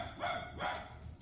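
A puppy near a house gives two short, fairly close yappy barks, with quiet background noise between them.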